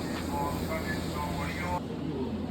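A Kyoto Municipal Subway Karasuma Line train rumbles steadily along, with a whining motor tone rising and falling over the continuous rolling noise of the carriage.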